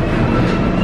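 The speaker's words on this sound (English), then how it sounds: "we are delayed because of train traffic" Train traffic rolling past, a dense steady low rumble with broadband rail noise at constant loudness, fairly close and with no voices over it.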